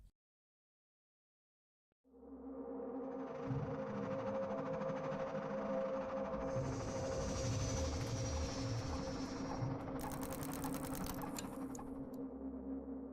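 A train pulls into Gare d'Austerlitz station in Paris with a loud, steady rumble and mechanical whine that holds throughout. A brief high hiss rises near the end, and no one speaks.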